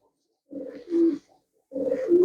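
Pigeons coo nearby in two short bursts, soft throaty warbling calls separated by a brief pause, with no talking.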